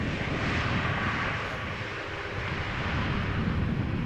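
A Boeing 747-8 airliner at Amsterdam Schiphol Airport gives off a loud, steady engine roar at close range, broad and rumbling, with no voices over it.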